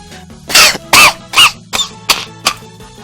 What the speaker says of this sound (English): Suddenly losing my ability to breathe for a brief second, I lapse into a fit of coughing.